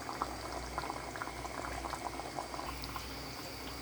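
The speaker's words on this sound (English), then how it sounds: "So here I'm adding water now to the pot." Water poured into a pot of Bahamian dumpling soup, a steady bubbling, gurgling liquid rush with fine splashes, continuous and fairly quiet throughout.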